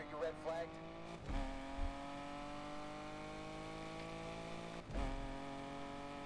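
Cars race in the video game Need for Speed Unbound, with a steady engine drone and tonal revving, two sharp bursts that sound like impacts or gear shifts, all under someone talking.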